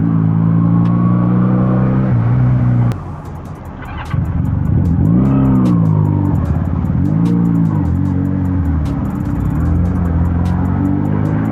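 A Benelli Patagonian Eagle 250 motorcycle engine runs close by, idling in a low rumble, dipping briefly, then revving up and down in several throttle blips, loud and alone without talk.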